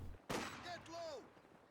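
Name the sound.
sniper gunfire in Company of Heroes video game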